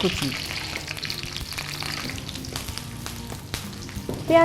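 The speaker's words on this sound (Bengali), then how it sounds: "কুচি দিয়ে বেশ লাল লাল করে ভেজে নেব।" Chopped onions fry until browned in a pan, with a dense, steady sizzle and occasional stirring scrapes close by throughout.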